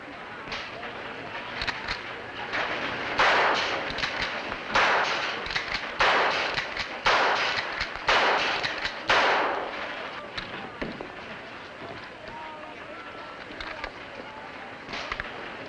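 Gunshots ring out in a shooting contest: a string of sharp, spaced shots with echoing tails comes in a fairly regular rhythm, then stops, with background noise continuing underneath.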